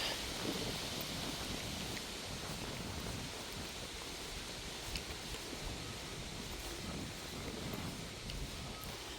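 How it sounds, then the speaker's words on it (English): Fierce wind roars steadily across a microphone in an open hillside cemetery, a constant broadband rumble with slight gusting swells and no voice. "That wind is fierce."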